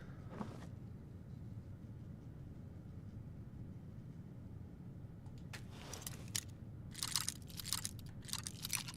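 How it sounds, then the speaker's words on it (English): Crunchy footsteps in the Skyrim video game, several quick gritty steps late in the clip over a low ambient drone, fairly quiet and alone. "Those footstep sounds, though. That's so crunchy."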